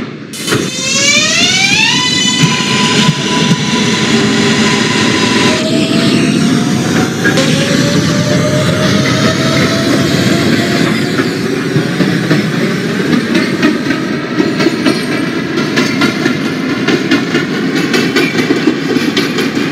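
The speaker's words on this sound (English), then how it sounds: "The Queensbound J skip stop train." A simulated R143 subway train on the J line runs with a rising electric motor whine and steady rumble, rails clattering beneath as it accelerates and cruises, sustained and loud throughout.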